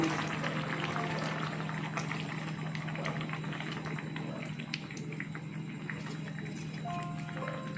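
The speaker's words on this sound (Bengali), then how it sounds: "আমি এখন পোস্ত পেস্টটা দিয়ে দেব" Poppy seed paste going into a simmering pot of bottle gourd greens curry, with a steady bubbling, sizzling wash throughout and a low hum underneath, no talking over it.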